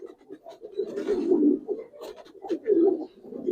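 Giribaz pigeons cooing close by, a continuous low rolling murmur of overlapping coos with a few brief rustles and faint background noise.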